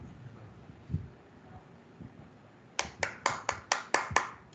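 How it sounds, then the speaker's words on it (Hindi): A student is welcomed with claps at a students' camp closing ceremony. A short hush gives way to a steady, rhythmic series of about eight crisp, close hand claps. "तालियों के साथ स्वागत आदित्य चतुर्वेदी को"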